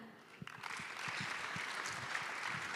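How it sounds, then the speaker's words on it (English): Audience applause at an East African accountants' congress for a guest of honor, clapping that starts softly and swells into a steady, fairly distant wash with a few louder individual claps and faint murmuring. "could you give a round of applause to our guest of honor?"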